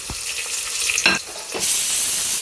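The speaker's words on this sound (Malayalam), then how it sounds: "ഇനി അതൊന്ന് റെഡിയാക്കി കഴിഞ്ഞാൽ നമുക്ക് ഉള്ളി ഇടാം. ഉള്ളി ഇട്ടിട്ടുണ്ട്." Onions go into hot ghee, with a few scraping stirs followed by a loud, bright sizzle that rises and holds for the last second, close up and without voices.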